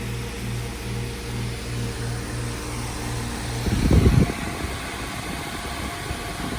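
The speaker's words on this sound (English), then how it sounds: "There's the compressor." A 2011 Ducane heat pump in cool mode hums with a pulsing, regular mechanical drone, then its compressor kicks in with a loud surge partway through and settles into a steadier, rougher running rumble.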